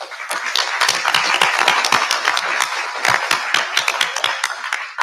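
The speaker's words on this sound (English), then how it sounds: "we should definitely give them a round of applause" An audience at a public meeting applauds, a dense, steady round of close clapping lasting several seconds with no talking over it.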